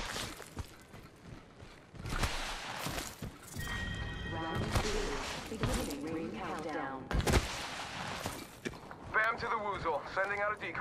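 Gunfire in the battle royale game Apex Legends, a series of sharp shots and thuds scattered through the clip amid game effects and a voice speaking over it.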